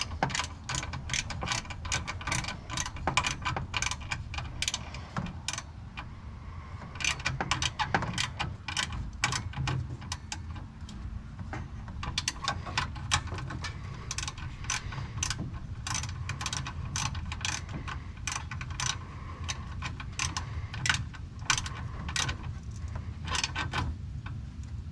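A hand ratchet tightens two bolts on a Lightning intercooler pump, its quick clicking pawl repeating in steady bursts with brief pauses, close by and fairly quiet.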